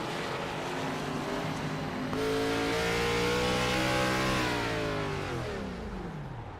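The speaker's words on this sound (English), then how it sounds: "I can hear Millett cutting that motor off." Race car at Sonoma in a racing series: engine note rising and falling with sweeping harmonics, loud and close, as the motor is cut off and the car coasts through a turn, fading slightly at the end.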